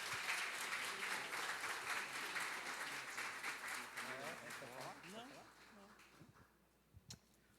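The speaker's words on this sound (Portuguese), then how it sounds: "Você pode adorar a Deus com as suas palmas" Church congregation clapping during a celebration service, sustained applause that fades toward the end, with a voice speaking over it.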